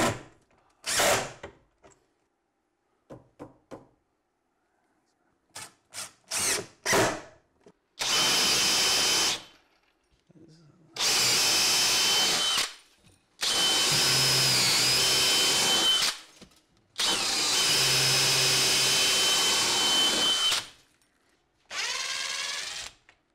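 A power drill driving rods into a wall to mount live edge wooden floating shelves in a cabin kitchen, with several loud sustained whirring bursts of a few seconds each, separated by short clicks and pauses.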